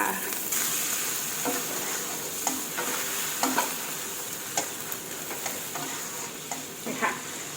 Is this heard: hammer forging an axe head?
no